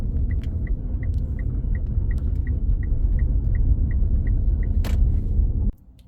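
Mitsubishi PHEV driving with a faulty wheel bearing, a loud continuous low rumble from inside the cabin with a faint regular ticking, cutting off abruptly near the end.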